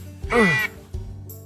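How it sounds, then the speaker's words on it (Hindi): A duck gives a single loud, nasal quack close by, followed by a fainter short call, outdoors on a cold mountaintop with no talking. "शायद बत्तखों ने हमला कर दिया है।"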